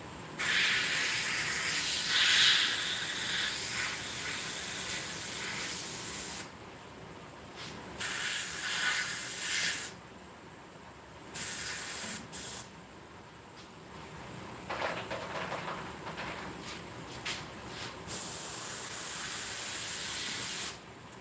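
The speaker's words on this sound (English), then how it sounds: "I'm going to go ahead and start airbrushing it onto Baby Yoda." An airbrush sprays paint onto a Baby Yoda figure in steady, close hissing bursts of several seconds each, broken by short silent gaps as the trigger is released.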